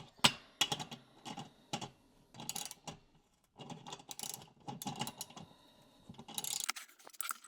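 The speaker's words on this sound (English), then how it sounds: "Our socket wrench here, this is a 9 16 bit that we are using" A socket wrench with a 9/16 socket ratchets lag bolts into a wall for a full-motion TV wall mount, giving quiet, irregular clicking bursts with brief pauses between strokes.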